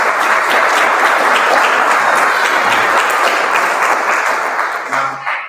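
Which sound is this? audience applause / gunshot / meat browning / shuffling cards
audience applause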